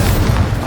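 A fire spell cast in Hogwarts Legacy bursts out as a loud, brief boom with a deep low rumble, filling the moment without any voices.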